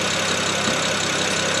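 A BMW 335i with the twin-turbo N54 engine idles steadily up close, a loud, even mechanical hum and whir with no change in revs.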